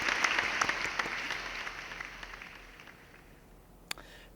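A modest audience at a design competition awards gives a short burst of applause for the fourth-place group, quiet and fading steadily over a few seconds, ending with a single louder clap.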